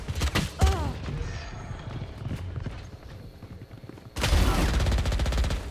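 Gunfire from a Valorant match at a Texas esports state championship: loud, sharp shots early on, a quieter stretch, then a dense run of rapid automatic fire in the last second and a half.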